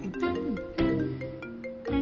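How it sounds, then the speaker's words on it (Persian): A telephone ringtone plays a short repeating melodic chime, loud and close, sounding in three quick bursts with no one speaking over it. "جواب ده به این تلفن."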